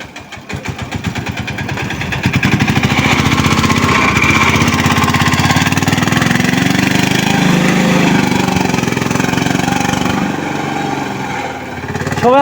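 A motorcycle engine starts a ride, a close, rapid putter that swells from idle into a steady revving drone and holds loud throughout, with no talk over it.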